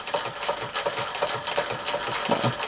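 A small Marklin 4122 hybrid model steam engine runs steadily, its quick, even chuffing pulses close and moderately loud, with a faint hiss underneath.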